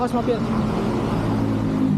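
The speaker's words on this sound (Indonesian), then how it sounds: "awas mobil" A car passing close by on a town street in Purwokerto, Indonesia, a steady engine and tyre rumble filling the clip while people talk nearby.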